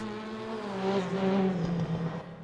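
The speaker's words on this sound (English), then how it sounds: "That is a loud car." A loud WTCR touring race car at Brands Hatch Indy in RaceRoom sweeps past, its engine note swelling and fading over a couple of seconds with a faint whir.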